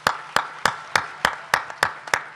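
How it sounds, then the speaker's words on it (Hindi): Eight sharp, evenly spaced hand claps at a Hindi comic poetry gathering, close and distinct, like a single clapper keeping a brisk beat rather than a crowd. "अच्छा लग रहा हो तो एक बार ताली बजाकर बताओ।"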